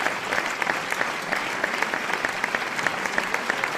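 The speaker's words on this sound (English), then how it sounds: "We welcome him with a resounding round of applause." Steady, loud applause from an audience at the launch event for a property website, dense clapping with sharp individual claps standing out throughout, no talking over it.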